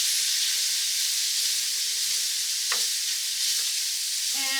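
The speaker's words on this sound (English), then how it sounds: "I also have 4 cloves of garlic that have been already minced up. We're going to stir that in." Four cloves of minced garlic hit a hot pan for peanut noodles with pork, giving a steady, loud sizzle and hiss with a few faint scraping stirs near the end.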